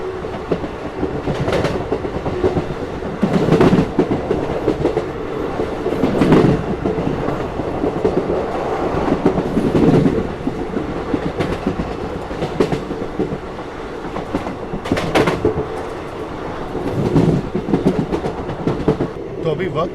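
A passenger train runs toward Hardoi railway station on an unplanned journey to Shri Mata Vaishno Devi, its wheels clacking in loud repeated bursts over rail joints amid a steady rolling rumble, heard from inside a carriage.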